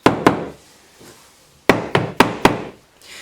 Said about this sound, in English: Hammer in the cams